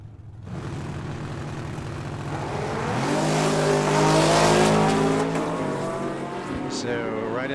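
A Chevrolet Camaro launches in the left lane at a drag strip, engine revving hard with a loud, rising roar that builds and holds as it pulls away down the track, with tire noise and crowd or announcer voices underneath.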